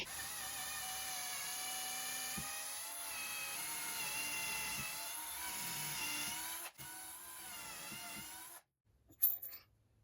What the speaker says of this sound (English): I'm going to pre-drill with a drill bit that's just a tad bit smaller than it